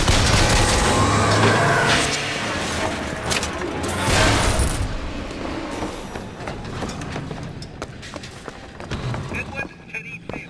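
Pistol gunfire in the game BioShock Infinite: a dense, loud burst of rapid shots and impacts in the first half, thinning into scattered, quieter cracks amid game noise.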